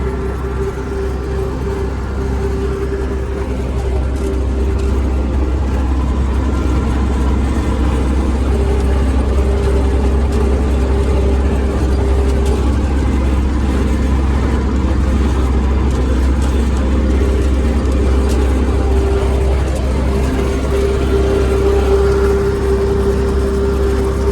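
An MTZ tractor drives itself through an automatic headland turn in a field, its diesel engine droning loud and steady from close by in the cab, with a constant low hum throughout.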